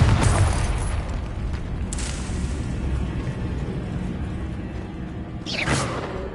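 A Confringo fire blast spell in Hogwarts Legacy erupts with a loud, booming explosion, followed by a rumbling, crackling tail and a second sharp burst near the end.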